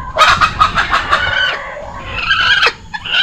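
Caged chickens cluck loudly and close by, giving a quick run of sharp clucks followed by a drawn-out squawking call.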